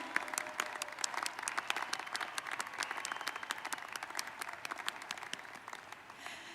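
A crowd at the Castle View High School 2024 graduation ceremony gives the senior class another round of applause, a lively spread of sharp individual claps within a sustained, fairly close ovation lasting several seconds.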